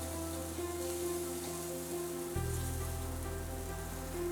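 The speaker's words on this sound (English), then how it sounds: "I'm going to spoon this mixture or the batter that we made before into the middle of the pan and then spread it around gently" Savoury sauerkraut or kimchi pancake batter hitting a warm pan, a soft continuous sizzle under a steady low kitchen hum that deepens partway through, quiet and close.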